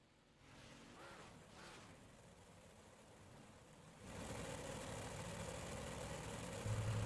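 A race car engine idles in the iRacing sim, a quiet steady rumble that swells into a louder, broader roar partway through, with no voices.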